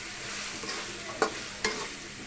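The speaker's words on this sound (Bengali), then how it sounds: "এবার আমরা এটাকে নেড়ে নেব" Dried loitta fish with potatoes, tomato and chili powder is stirred in a pan. A soft, steady sizzle runs throughout, with two sharp spatula scrapes standing out near the end.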